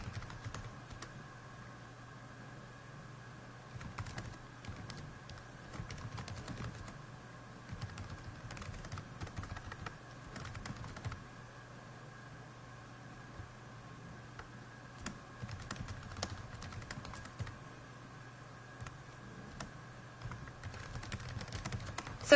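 Someone types a short book summary on a computer keyboard, producing a soft, irregular patter of key clicks close by, over a low steady hum, with no talking.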